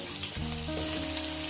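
A short burst of sliced potato frying in hot oil in a home kitchen pan, steady crackling sizzle with faint tonal hum underneath.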